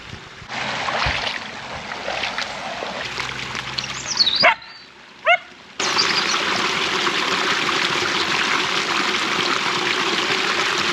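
Dogs off the lead by a cold stream where people paddle, with steady broadband rushing water throughout, brief sharp calls breaking through midway, and a short gap before the flowing water resumes louder and continuous.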